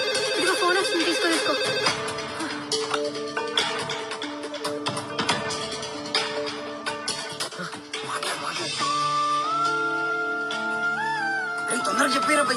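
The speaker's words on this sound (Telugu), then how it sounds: "ఇదిగో ఫోన్ వస్తుంది, తీసుకో" A mobile phone ringtone plays as a melodic electronic tune, with repeated chiming notes over background music and scattered clicks, continuing for the full stretch at moderate loudness.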